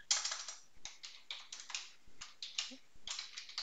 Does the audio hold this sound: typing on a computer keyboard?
yes